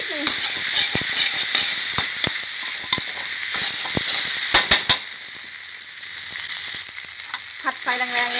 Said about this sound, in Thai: ผัดไฟแรงๆเลยนะคะให้เม็ดข้าวกระเด้งไม่ติดกระทะ